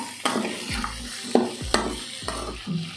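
Sliced onion, capsicum and other vegetables sautéing in a hot pan: a steady low sizzle broken by several rhythmic scraping stirs of a spatula against the metal, close up with no voices.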